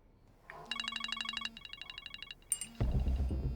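A telephone rings with an incoming call, bursts of bright electronic ringtone tones repeating in quick pulses, then a sharp click as a louder, fuller sound takes over near the end.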